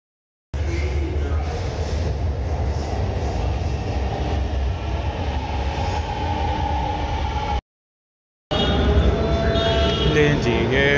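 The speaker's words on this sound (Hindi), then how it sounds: "जी ये हम आ गए हैं मेट्रो के अंदर।" Steady rumbling and rushing noise from a Karachi Orange Line metro train in motion, continuous and fairly loud, cut off briefly before resuming with faint voices.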